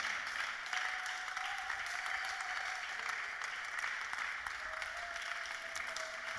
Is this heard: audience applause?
yes